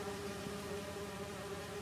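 Bees buzz in a laboratory in Marvel's Spider-Man 2, a close, continuous droning hum with a steady tone that wavers slightly, alone without speech.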